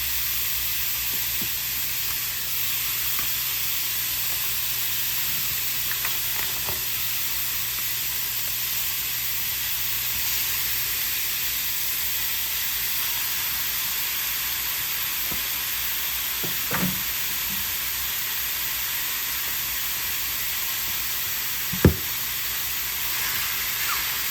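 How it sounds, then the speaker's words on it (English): Beef browning in a pan on the stove, a broad steady hiss and sizzle held for a long stretch, with a few faint clicks and one sharp knock near the end, no talk. "So now we're putting the beef in to cook it"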